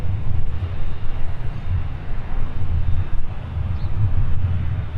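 Airplane taking off from runway 17 at Minneapolis–St. Paul airport, a loud rumbling engine roar with gusty wind buffeting the microphone.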